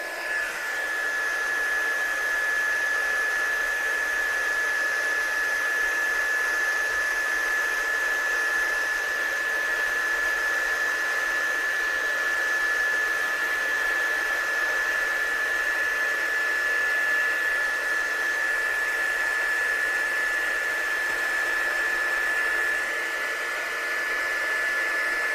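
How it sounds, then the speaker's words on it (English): A heat embossing tool blows steadily and loudly for the whole stretch, heat-setting stamped ink in a craft studio, with a constant high whine over the airy roar and no talk. "So let's just heat set this one."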